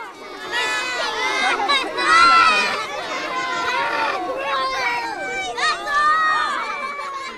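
A crowd of children shouts and chatters loudly, rising in excited bursts, as a male salmon is used to fertilize eggs during an egg take on the Anchor River; a close, continuous babble with peaks of cheering.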